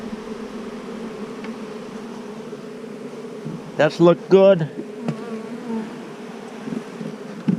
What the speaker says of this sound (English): Bees are pretty good temperament today.